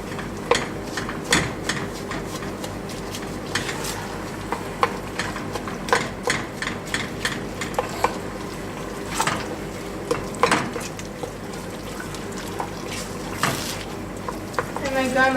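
Spices, cumin, cinnamon, black pepper and salt being mixed into mahshi stuffing in a pot, with repeated clinks and scrapes of a utensil against the pot in an irregular rhythm, close and fairly quiet.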